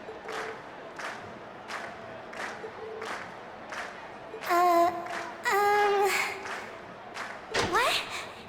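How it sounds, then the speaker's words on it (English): A video game audience in Trails of Cold Steel calls for an encore at a class stage performance, with steady rhythmic clapping followed by bursts of loud, shouting voices near the end. "we've heard your cheers loud and clear"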